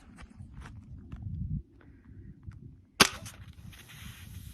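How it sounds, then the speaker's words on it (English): A shotgun fired at a soda can, one sharp crack near the end after quiet shuffling and faint rustling, the shot loud and close against otherwise soft surroundings. "now Alexa's gonna shoot the soda"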